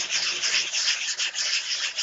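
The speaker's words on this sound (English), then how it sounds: "ASMR sanding." Steady sanding, a continuous bright gritty rasp in even back-and-forth strokes, close and alone.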